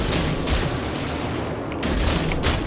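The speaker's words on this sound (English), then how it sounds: "I want to throw torpedoes out" Torpedoes fire from the Mogami cruiser in World of Warships, a steady, heavy rush of blast and rumble that stays loud and continuous, with a few sharp high clicks partway through.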